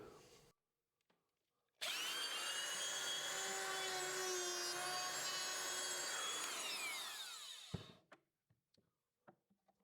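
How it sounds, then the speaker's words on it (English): Router cutting a hinge recess into a wooden door edge with a jig, one sustained loud whine of about six seconds that spins up abruptly, holds steady, then winds down, with quiet handling noises before and after. "it's just a case of clamping that in place and routering it out"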